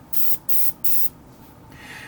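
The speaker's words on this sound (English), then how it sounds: "I was going to use this over-diluted paint. If it can't spray this, it can't spray nothing." Airbrush spraying over-diluted paint onto a model ship: three short, sharp hissing bursts in quick succession, then a quieter, sputtering trail of spray, close and alone.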